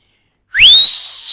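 A loud, piercing human whistle, one sustained note that rises quickly and then holds steady, clear and close with no talking.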